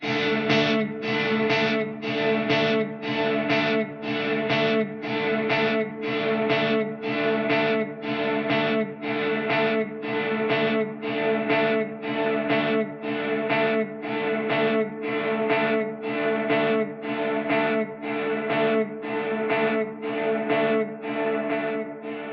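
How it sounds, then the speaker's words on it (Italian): Guitar processed through an Axe FX III with delay placed ahead of reverb using a half-second pre-delay, played as a long run of evenly spaced, repeating chords with echoing tails, steady and alone without talk. "Quindi questo è quello che succede mettendo il delay prima del riverbero."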